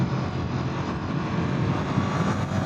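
Engine of a 2024 Ducati Multistrada V4 S Grand Tour motorcycle on back roads, a steady, loud, dense roar with continuous rumble and wind, no breaks or voices.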